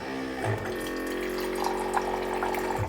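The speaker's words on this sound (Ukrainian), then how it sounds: "Вода біжить гучніше." Water runs steadily from a filter tap into a sink, with a low mechanical hum beneath the splashing stream.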